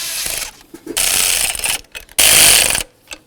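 A ratchet snugs the stud nuts on a throttle body of a 1994-2004 Chevy S-10, heard as two bursts of rapid, loud, close clicking separated by quieter handling noises.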